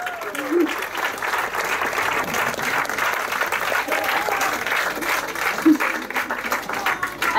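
Audience applauding at a school science show in Estonia, steady dense clapping filling the room with a few whoops and voices mixed in, holding at an even level throughout.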